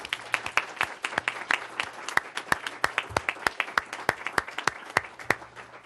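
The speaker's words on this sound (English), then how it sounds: "acknowledge you with a round of applause and a show of gratitude" A round of applause at a school board of education meeting: a smaller group clapping, with sharp, distinct, fairly regular claps spread through the room and no voices over it.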